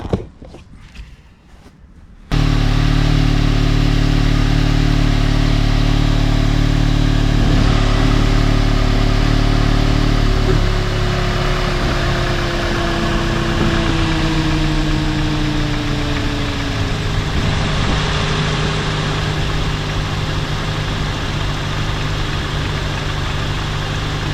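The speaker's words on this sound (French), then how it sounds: "on va la démarrer et on va la soulever pour voir si ça fuit au cas où" An Audi S3 8V engine cranks and fires after a short pause, then settles into a steady, loud idle with a deep hum that stays close and continuous, alone without talk.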